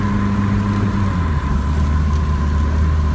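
A turbocharged Honda Civic engine runs with unsteady RPM, a steady loud drone with a low rumble and a constant whine that holds throughout, without clear rev peaks.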